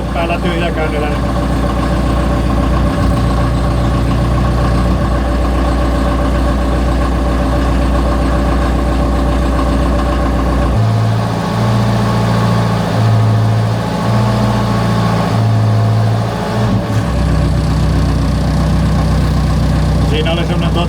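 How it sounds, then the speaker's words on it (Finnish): Lawn tractor engine idling steadily with its hydraulic pumps engaged, a loud continuous low drone whose pitch shifts partway through, heard close and alone throughout. "Nyt on pumput päällä tyhjäkäynnillä."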